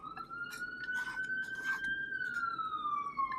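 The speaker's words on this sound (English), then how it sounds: "New York City graces us with some sirens" A siren wails in a long, slowly rising and falling tone, fairly distant, over faint street noise in New York City.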